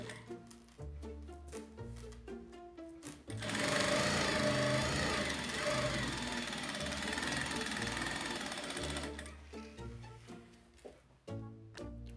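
A sewing machine stitches a seam on a dish towel border, a sustained whirring run of several seconds in the middle, framed by background music before and after.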